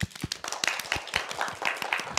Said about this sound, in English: Let's do a few clap.